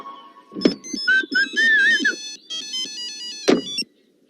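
Mobile phone ringtone playing a bright electronic melody of rising and falling tones, close and fairly loud, with a couple of sharp clicks before and after.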